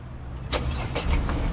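Key turns on a Citroen C3 Aircross and the engine cranks and catches, a few sharp starter bursts rising into a low steady idle rumble, close by inside the car.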